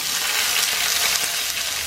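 Mustard seeds splutter and pop in hot coconut oil for a Kerala kozhukatta tempering, a steady close crackling sizzle with no voices.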